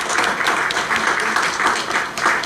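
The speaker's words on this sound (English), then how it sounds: "Another round of applause for our students" Audience applause for students at the opening of an international Garifuna heritage conference, a sustained crowd of many hands clapping in a dense, steady wash that runs throughout at fairly loud level.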